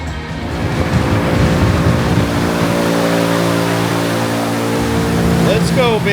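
A Whipple-supercharged 2024 Mustang GT running a 3.625-inch Griptec pulley roars loudly and steadily through a dyno pull, its engine note sustained and climbing near the end, with voices faintly underneath.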